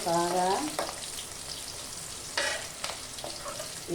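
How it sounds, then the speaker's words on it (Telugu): Sliced onions and green chillies fry in a pan with a steady, close sizzle, broken by scraping stir strokes and a few sharper crackles. "బాగా పచ్చిమిర్చి, ఉల్లిపాయ బాగా మగ్గిన తర్వాత బాగా వేగేయండి"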